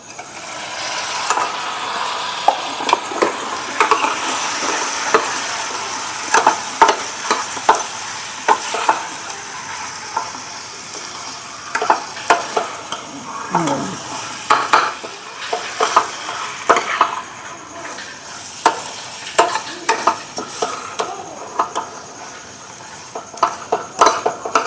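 Tripe (vajdi) fries in oil and masala, a steady sizzle under frequent clattering scrapes and knocks of a spoon against the pan, irregular and close, continuing for the whole stretch with no talking.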